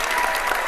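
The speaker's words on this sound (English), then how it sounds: "just have a little applause or something" A short canned applause effect from Google Effects: a steady, dense burst of clapping and light crowd noise, close and even, with no voices over it.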